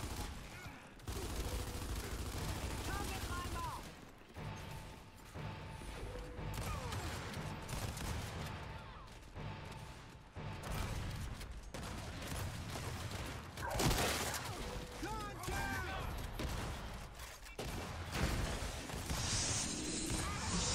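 Gears 5 multiplayer gunfire from a ranked Control match, with sustained rapid bursts and scattered impacts over about twenty seconds, loud and dense with short breaks and a voice faintly underneath.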